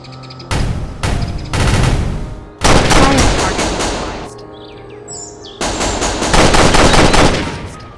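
Gunfire from the shooter game Execute: loud rapid automatic bursts separated by short pauses, with faint bird chirps in the gaps.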